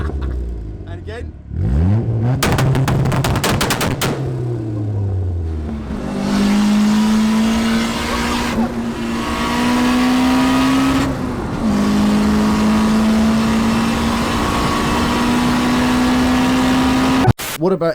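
A Rover Metro with a turbocharged Honda B16 engine swap revs loudly through a custom exhaust running from the downpipe back, rising and falling in sustained pulls with brief drops between them, close and continuous.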